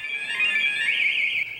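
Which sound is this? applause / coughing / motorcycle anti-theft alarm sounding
motorcycle anti-theft alarm sounding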